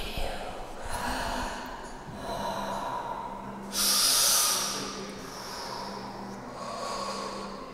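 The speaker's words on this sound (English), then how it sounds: "these walls breathe" Breathing sound from the walls of a Laure Prouvost art installation in a gallery, slow airy inhales and exhales repeating at a calm rhythm, one louder hissing breath midway, with faint voices nearby.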